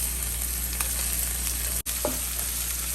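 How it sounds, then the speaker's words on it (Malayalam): Chopped green chillies, garlic and ginger fry in hot oil with spices for a spinach chicken dish, giving a steady close hiss of sizzling with a brief stir scrape and no voices. "നമ്മൾ കണ്ടിച്ച് വെച്ചേക്കുന്ന പച്ചമുളകും നമ്മുടെ വെളുത്തുള്ളിയും ഇഞ്ചിയും കൂടെ ഇട്ട് കൊടുക്കാം"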